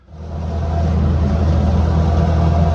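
An M38A1 Jeep engine fitted with an SU carburetor and fed from a raised gas can rises from quiet to a loud, steady running drone, close and rough-edged, with no voices.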